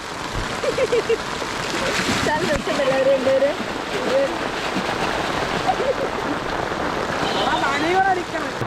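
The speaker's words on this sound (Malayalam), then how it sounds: "നല്ല മഴയാണ്" Heavy rain pouring at Olipuram, a dense continuous hiss and splatter of drops on surfaces close by, running throughout beneath people talking.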